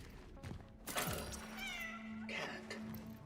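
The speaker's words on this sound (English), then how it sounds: "what is that? That's the cat." A cat meows in a video game, with a couple of drawn-out, wavering cries and a thud amid game noise, fairly close and clear.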